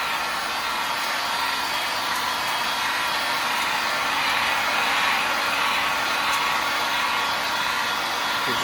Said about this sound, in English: we're going to use the heat gun and we're going to heat it on the high setting